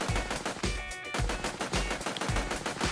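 An AK fires in the video game Santa's Monster Shootout, tapped semi-automatically as fast as possible, a steady rhythm of punchy, loud shots roughly every half second over background music.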